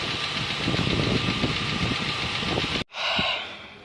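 A car engine runs with a steady, slightly knocking rumble, cuts out abruptly near the end, then picks up again briefly.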